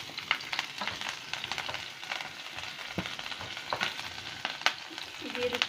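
Chicken fries in a pan with chopped green chillies, giving a light crackling sizzle with intermittent stirring clatters nearby and no speech.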